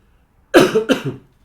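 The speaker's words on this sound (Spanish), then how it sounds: "Disculpas que estoy un poquito con tos en este momento que estoy grabando el video." A man gives two quick, close coughs in succession, loud and dry, with silence before and after.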